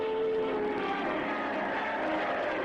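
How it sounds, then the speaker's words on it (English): Propeller fighter and bomber aircraft engines droning steadily overhead, a loud continuous roar of several planes passing, during the D-Day Normandy invasion. "thousands of British and American fighters and bombers began a sustained attack on German installations"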